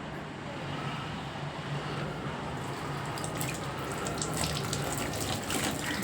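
An aloe vera leaf rinsed clean under a running kitchen tap, giving a steady, close, continuous splash of water with no talk over it.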